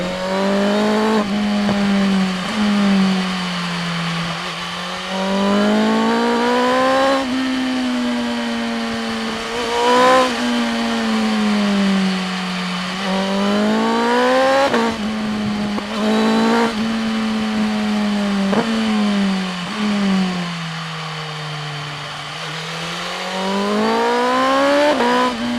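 A BMW M 1000 R motorcycle engine howls on a downhill ride, loud and close, its pitch climbing and falling through repeated rev sweeps as gears shift, over steady wind rush.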